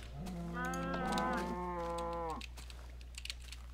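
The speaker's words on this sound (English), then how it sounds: "Kind of forgot that cow would come off the track." A cow moos once in Minecraft, a long harmonic lowing call of about two seconds, loud and close over a steady low game hum.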